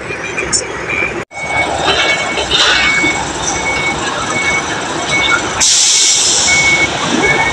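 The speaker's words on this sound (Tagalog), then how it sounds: "may nauna sa atin mga malaking truck, mga trailer yan" Heavy diesel engines rumble around a truck loading area where large trucks and trailers wait, with a repeating reversing beep cutting through, a sharp thud, and a brief hiss of air brakes near the end.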